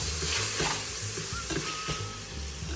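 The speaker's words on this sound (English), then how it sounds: "We're gonna let these saute." Fresh onions sauté in a multicooker pot with a few bits of beef for stroganoff, giving a steady close sizzle with soft spatula stirring scrapes over it.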